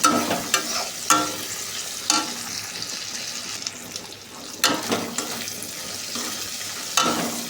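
Rohu fish head frying in spice masala with moong dal, a steady hiss and sizzle in the pan broken by sharp scrapes and clacks of a spatula stirring every second or two, close up and without speech.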